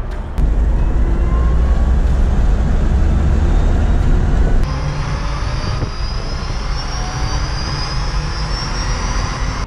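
An electric-converted Porsche 911 Targa accelerates hard, giving off a loud, continuous motor whine. The pitch climbs steadily under a heavy rushing roar, then drops to a slightly lower level partway through.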